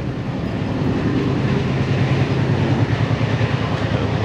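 Steady low rumble and rhythmic rattling inside a moving first class sleeper train running from Cairo to Luxor, a continuous close drone with faint clicking of the carriage, no talking.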